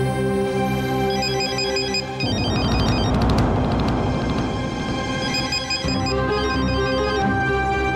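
A telephone rings in a domestic scene from a Marathi TV drama, its steady electronic ringtone repeating throughout under a continuous background music bed.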